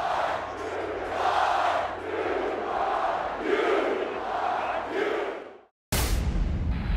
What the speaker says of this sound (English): the crowd is coming to its feet